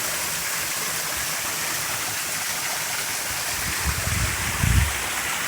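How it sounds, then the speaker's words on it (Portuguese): The Lagedo waterfall stream in the hills of Brazil pours into natural rock pools as a loud, constant broadband rush of water with a faint low rumble near the end. "Riacho do Lagedo de cima da serra."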